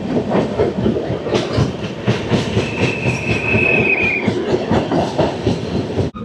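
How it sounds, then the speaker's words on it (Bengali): The Garib Rath Express passenger train runs nonstop between Katwa and Nabadwip Dham. Loud, close rhythmic clickety-clack of wheels on rail joints continues throughout, with a sustained wheel squeal rising in the middle. "কাটোয়া আর নবদ্বীপ ধামের মধ্যে আমাদের এই ট্রেন অতিক্রম করবে 39 কিলোমিটারের ননস্টপ ডিস্টেন্স"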